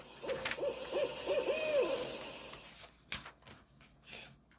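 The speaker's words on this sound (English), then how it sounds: "Pete hears a strange hooting sound. What is that? He wonders. That's just an owl." An owl hoots in a short run of soft, evenly spaced calls, followed by a sharp click and a few faint rustling noises.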